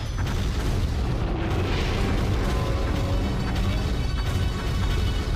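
Godzilla unleashing its blue fire atomic breath in the Godzilla PS4 game, a loud sustained roaring blast with rumbling booms, steady and dense throughout with no speech.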